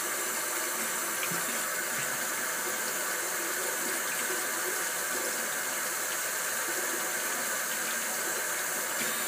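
Warm water runs steadily from a bathroom tap for washing makeup brushes, a constant close hiss and splash that continues without a break.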